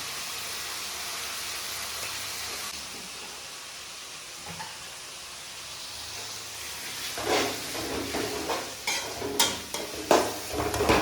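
Spices tempering for a Tamil dish sizzle in hot oil with turmeric and chili powder: a steady low hiss, then sharp crackling bursts and spits that grow louder toward the end.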